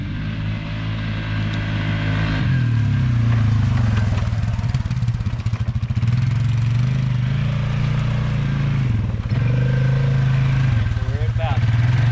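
A 2020 Polaris Sportsman 450 ATV with a clutch kit pulls away and keeps its engine droning, the pitch climbing and dipping as it accelerates and shifts, steady and loud throughout, with a rider talking over it.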